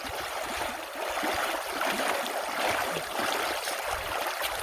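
Muddy water gushes steadily out of a freshly unclogged drain that had been choked with water grass, a continuous close rushing and gurgling flow.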